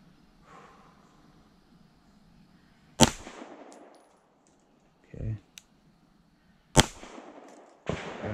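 A Springfield Armory Prodigy pistol fires a few loud, sharp shots several seconds apart, with quieter clatter in between and faint talk at the start.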